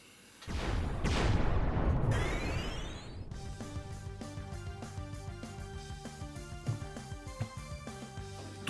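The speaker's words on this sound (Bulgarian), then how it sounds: "Много бърза стрелба на някакви места има тоя пичага." Rapid gunfire in a shooter video game crackles in quick repeated bursts after an opening boom and rising whoosh, steady and fairly close, with no talking.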